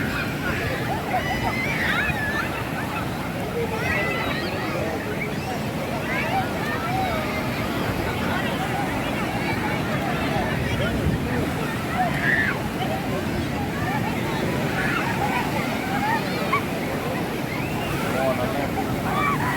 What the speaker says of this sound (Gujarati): જોરદાર અવાજ સાથે આવે છે મોજા.